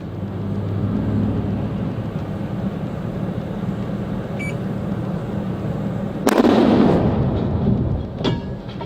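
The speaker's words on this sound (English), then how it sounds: "A compressed natural gas tank likely exploded, injuring 2 cops and a firefighter." A compressed natural gas tank on a truck explodes in a sudden loud blast partway through, followed by a rumbling roar that slowly fades, over steady background traffic-like noise.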